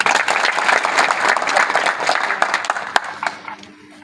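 A crowd applauding a quiz participant at a National Safety Week event, a thick burst of clapping from many people that stays loud, then thins and fades out over the last second.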